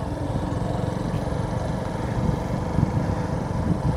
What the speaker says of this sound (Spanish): Y la moto empieza a subir.